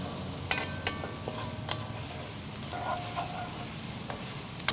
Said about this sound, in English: we're gonna let the onions and celery cook down until the onions are translucent